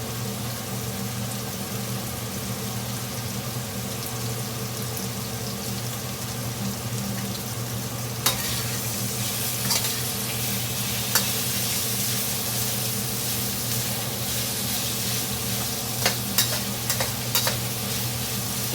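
Chicken fajitas sizzling in a pan, a steady close hiss of frying with occasional scraping clicks as the pieces are stirred, no talk.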